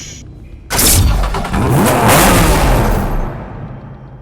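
A Porsche 911 GT2 RS sports car in Need for Speed Hot Pursuit Remastered cranks to life with a sudden loud roar, revs hard and then settles into a fading rumble.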